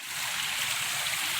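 Brook water flows steadily through Ogden's waterfall canyon, a continuous close rushing hiss with a low gurgle beneath it, filling the whole moment with no voices.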